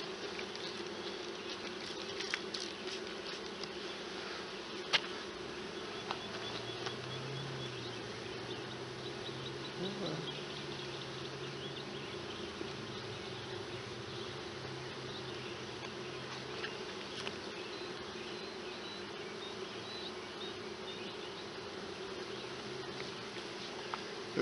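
A honeybee hive hums steadily, close and continuous throughout, with a few faint clicks and taps from hive work.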